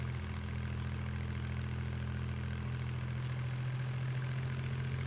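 An airplane engine drones in the video game Just Cause 3. The propeller hum is loud and steady with no break, and its pitch steps slightly higher partway through.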